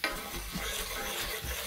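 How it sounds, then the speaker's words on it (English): Garlic sautéing in oil in a pan over low heat, a steady close sizzle with soft stirring scrapes and light bumps against the pan. "So I'm just letting the garlic saute in the oil a little bit."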